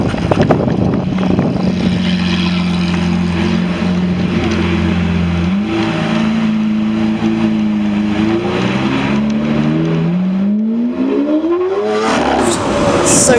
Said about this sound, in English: That is an Armytrix exhaust Lamborghini Aventador LP 700-4.